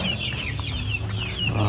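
Heritage chickens clucking nearby in a short, busy stretch, several overlapping throaty clucks over a steady low background hum, with nobody talking.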